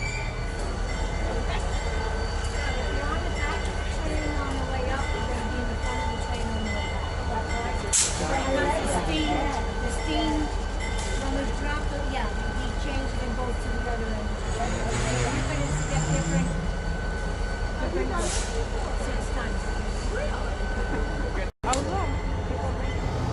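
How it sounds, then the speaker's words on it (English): An SD40-2 diesel locomotive begins moving forward at a railroad site, producing a steady low engine rumble with faint rail and car noises, while people talk in the background. "starts to move forward with the SD40-2"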